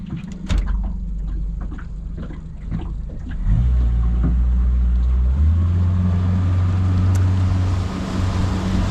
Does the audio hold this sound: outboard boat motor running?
yes